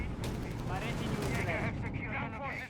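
G43 rifles fire in the video game Company of Heroes 3, a continuous rattle of battlefield gunfire under a commentator's talking voice.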